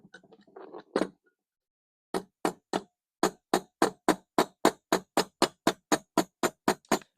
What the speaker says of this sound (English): So we're going to take the float off.